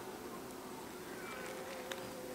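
Honey bees hum steadily and softly during a beehive inspection of a nearly empty hive, a continuous faint buzz with no talk.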